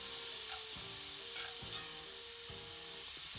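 Food sizzles in a buttered pan for a steak sandwich, a continuous crackling hiss broken by regular scraping strokes of a utensil roughly every second as it is stirred, close and without talk.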